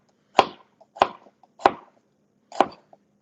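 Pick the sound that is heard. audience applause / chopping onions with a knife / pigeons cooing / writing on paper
chopping onions with a knife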